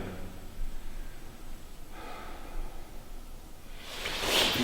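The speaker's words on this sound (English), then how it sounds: "Hear me breathing in and out because my chest is getting a bit tight" A person in the Hellfire Caves breathes heavily in and out with a tight chest, close-up breaths with a rising, louder gasping exhale near the end.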